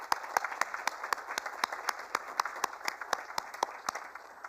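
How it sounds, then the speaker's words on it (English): Applause for award winners at a sanitation awards ceremony, a steady patter of many hands clapping with sharp individual claps standing out, moderately loud and continuous throughout. "let all of us give a big round of applause to those who have achieved that distinction this year"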